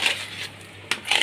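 Jaggery and cooked dal tumble into a pot while making puran for puran poli, giving two short clattering, scraping bursts with a quiet pause between them.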